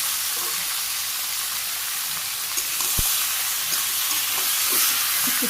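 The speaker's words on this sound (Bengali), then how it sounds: "আস্তে আস্তে নেড়ে ফেড়ে কষিয়ে নিই মাংস।" Chicken pieces stirred and sautéed in a pan over onions and cumin, a steady broad sizzle with scraping stir noises and a sharp clank near the middle, close and continuous with no talk.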